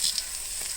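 Tempering spices, including dried red chillies, mustard seeds, chana dal, garlic and cumin, hiss in heated oil for a pickle, giving one brief, steady, close sizzle.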